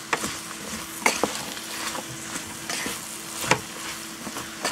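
Vegetables sizzling in a hot pan for a bean and bacon soup, tossed with scattered clatters and scrapes over a steady frying hiss, close by with no talking.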